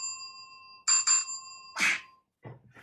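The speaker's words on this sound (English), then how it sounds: "Ring bell on service." A service bell rings with a bright metallic ding that sustains, followed by two quick strikes and a final ding, with a short sigh-like breath after it.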